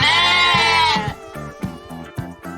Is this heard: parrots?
no